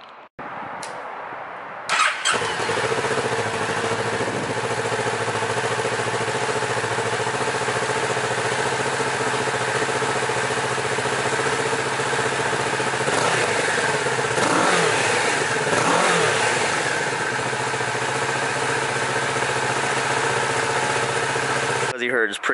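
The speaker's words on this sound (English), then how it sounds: "I'm going to go ahead and give you guys a stock sound clip of the bike right now" A Kawasaki Z650 motorcycle with stock exhaust starts and settles into a steady, loud idle, with a couple of quick revs partway through before dropping back to idle.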